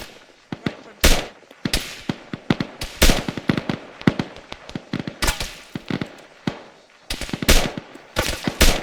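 Bursts of machine gun fire in a combat setting, rapid loud cracks coming in uneven clusters and volleys, some fast strings and some single shots, with faint voices in the background.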